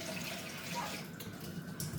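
Water poured into a cooking pot while making dry apricot chutney, a steady broadband splash and trickle running continuously and fairly close for the whole moment.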